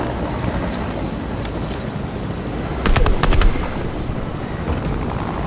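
A short burst of rapid gunfire from a few quick shots cuts through constant wind and engine-like rumble in Fortnite, with a couple of faint isolated shots before it.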